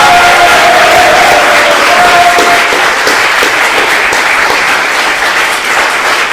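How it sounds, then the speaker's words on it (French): Loud, thunderous applause from a crowd at a university debate contest rolls on steadily throughout, thick and continuous with scattered cheers mixed in. "je vous demande de faire un tonnerre d'applaudissements ce soir à l'équipe de Révolte-toi Sorbonne"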